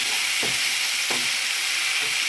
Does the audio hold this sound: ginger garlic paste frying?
yes